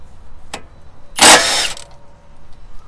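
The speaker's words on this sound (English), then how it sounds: "you get your impact wrench or your breaker bar, whatever you have, and then you just start loosening them up" Control arm bolts on a Hyundai Veloster N loosened with an impact wrench or breaker bar: a brief click near half a second, then a loud harsh burst of about half a second, close and with no talk.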